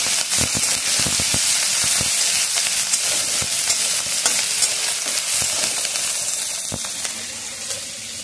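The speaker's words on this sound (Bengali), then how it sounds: "এখন আমি ভাজবো পাট শাক।" Jute leaves fry in hot oil with garlic, onion and green chili, giving a steady, close sizzle with occasional stirring clicks and scrapes throughout, no voices.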